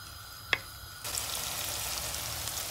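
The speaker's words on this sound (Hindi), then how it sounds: "और अब मैं प्याज को फ्राई करूंगी।" Chopped onions hit hot oil for chicken karahi: after a quiet moment and one small click, a bright, steady sizzle starts suddenly and carries on evenly, close and moderately loud.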